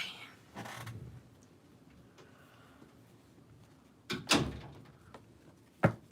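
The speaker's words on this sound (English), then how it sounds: "And close my door." A door closing at home, with a soft thud early on, then a louder latch-and-bang and a final sharp click, all fairly close in a quiet room.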